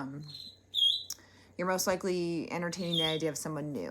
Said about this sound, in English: sorry for my birds, they're loud